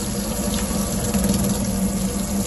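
Water running steadily from the vanity sink tap in a Carthago Chic E-Line I 61 XL LE motorhome, a close, even splashing stream with no talk over it.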